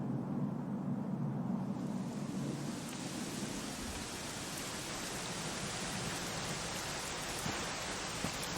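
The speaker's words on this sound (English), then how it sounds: "it was raining like this the last time I ever saw her." Heavy rain pours steadily in the Dragon Quest XI S game world, a dense hissing wash that swells after the first couple of seconds and stays constant, with occasional low rumbles beneath.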